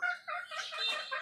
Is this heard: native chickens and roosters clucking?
yes